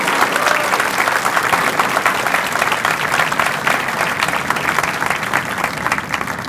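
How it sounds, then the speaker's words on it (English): Steady, dense applause from a large crowd honoring soldiers at a 21st Theater Sustainment Command change of command ceremony, continuous and loud for the full span with no voices over it. "please give these great soldiers a big round of applause"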